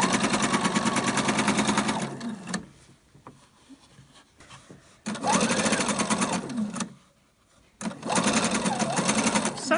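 A sewing machine stitches with elastic thread in three steady, loud runs separated by short quiet pauses.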